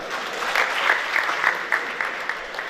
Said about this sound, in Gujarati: ટોમભાઈ તાળીઓથી વધાવીએ પહેલા